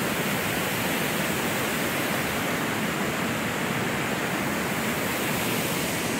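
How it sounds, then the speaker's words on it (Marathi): A small river in a monsoon Konkan forest rushes with a dense, constant broadband roar, loud and unbroken throughout, with no voices. "ही आमची धाकटी नदी आहे। धाकटी म्हणजे छोटी नदी आहे।"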